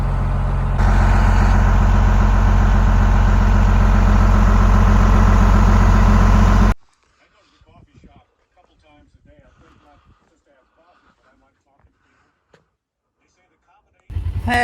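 A big John Deere loader's diesel engine idles loudly and steadily for about six seconds, then cuts off abruptly, leaving near silence with faint voices before the engine noise briefly returns at the end.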